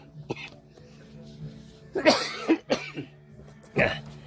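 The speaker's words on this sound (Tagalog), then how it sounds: "Hindi ka mag-ubo sa tubang ko." Several rough coughs burst out over a murmur of background voices, loudest in the middle and again near the end.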